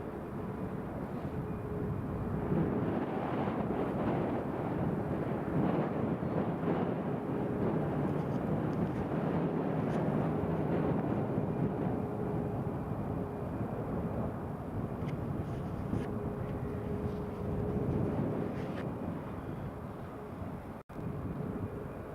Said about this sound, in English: That's Ryanair on the ILS approach.